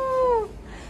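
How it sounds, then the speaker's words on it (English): A hungry cat gives a single short, drawn-out meow, close and clear, that fades out halfway through and leaves quiet room sound. "The cat is hungry."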